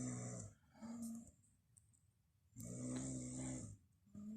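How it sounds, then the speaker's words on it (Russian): A woman snores loudly nearby, two long rasping, grunting breaths separated by a quieter pause, with a third beginning at the end, while a television plays faintly in the background. "Она храпит громче, чем телевизор."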